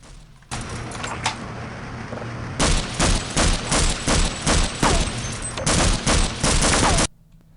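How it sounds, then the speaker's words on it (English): Rapid volley of gunshots fired at pipes in the video game Half-Life 2, loud bursts in a dense run under a steady hiss, with no talk. "Shooting the pipes will also make them bleed."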